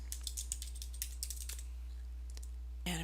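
Fingers tapping a computer keyboard in quick irregular keystrokes for a few seconds, close and clear over a low steady hum, ending in a louder burst of clatter.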